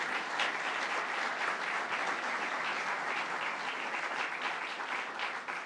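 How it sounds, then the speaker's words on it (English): Audience at a firefighter training funding announcement gives the Women's Auxiliary a long round of applause, a thick, steady roar of clapping from many hands that holds evenly from start to finish. "another round of applause for the Women's Auxiliary"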